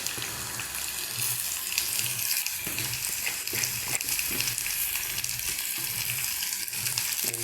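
Tomato, curry leaves and garlic frying in hot oil, a continuous hissing sizzle close by with soft rhythmic stirring scrapes underneath and no voices.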